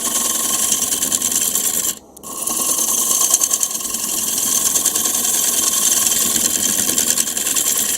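A Woodcut Little Wonder cup tool cuts a wooden bowl spinning on a lathe, giving a loud, continuous rasping scrape over the motor's hum that breaks off briefly once before resuming steadily.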